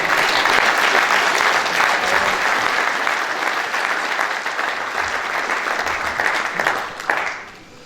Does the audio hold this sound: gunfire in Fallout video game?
no